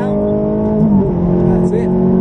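A Ferrari engine pulls hard under acceleration, a loud, steady, rising tone close by with a shift partway through, while a voice talks over it.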